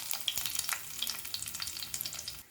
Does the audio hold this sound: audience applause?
no